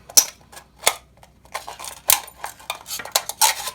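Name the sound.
cutting open an aluminum pop can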